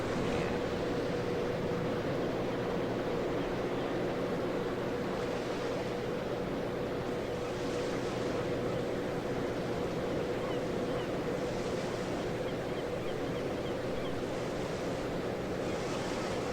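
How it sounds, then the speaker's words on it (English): Steady rush of ocean surf rolling in continuously in an airport tower simulator game set at St. Thomas, with a constant low hum of wind underneath and no voices. "And the waves."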